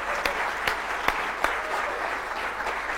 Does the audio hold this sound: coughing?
no